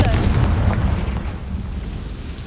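A Confringo blasting spell goes off in Hogwarts Legacy, a loud, deep explosion with a heavy rumbling low end that dies away slowly over about two seconds.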